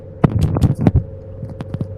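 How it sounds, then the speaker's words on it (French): A heartbeat effect in an animal hospital video game, a run of throbbing thumps close and loud over a steady electronic hum, with no talk. "Battement de cœur."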